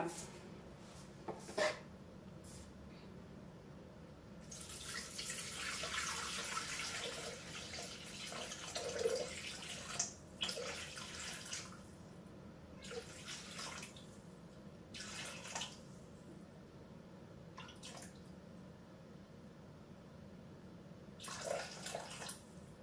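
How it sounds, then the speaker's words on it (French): Hot water poured into a bowl for semolina bread dough, with several splashing, running bursts of liquid separated by quiet pauses and small drips, close and moderately loud with no talking. "on va mettre 460 g d'eau chaude dedans"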